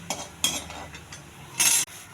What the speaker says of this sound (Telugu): అల్లంతో పాటు చింతపండు, పచ్చిమిర్చి వేగాలి